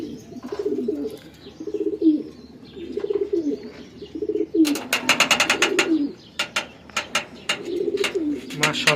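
Pigeons in a loft coo again and again in low rolling phrases, near and clear, and a burst of sharp rapid chirps from young birds cuts in midway.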